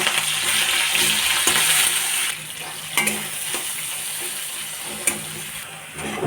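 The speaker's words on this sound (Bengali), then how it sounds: "আমার পেঁয়াজ ভাজা হয়ে গেছে" Onions frying in hot oil in a wok with whole spices, a steady close sizzle broken by occasional sharp clinks and stirring scrapes of a utensil.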